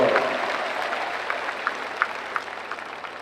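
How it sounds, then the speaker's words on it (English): Parents and guardians at a school graduation ceremony clap for their children, a moderate crowd applause that starts fuller and thins out, leaving a few distinct individual claps near the end. "Parents and guardians, please give yourselves a round of applause"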